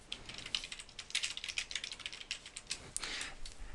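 Typing on a computer keyboard in Mathematica, quick, soft, irregular key clicks at close range, fairly quiet, with no talking.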